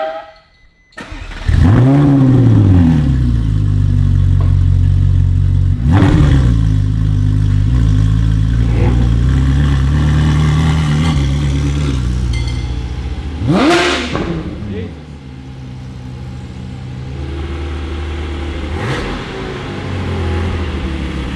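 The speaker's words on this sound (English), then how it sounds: "Might as well get the startups of the glorious Klein Inconel exhaust on this 458." A Ferrari 458 with a Klein Inconel exhaust cranks and fires up loudly close by, then settles into a rumbling idle punctuated by several sharp revs that rise and fall.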